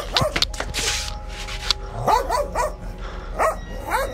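A village dog barks in sharp bursts, with yips and whimpering whines between them, mixed with rustling movement nearby. The barks come in irregular clusters and stay fairly close throughout.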